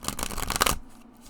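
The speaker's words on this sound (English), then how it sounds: "They shuffle very, very nicely, as you can see." A deck of oracle-style cards being shuffled by hand, a dense burst of rapid riffling flutter up close for under a second, then trailing off to quiet.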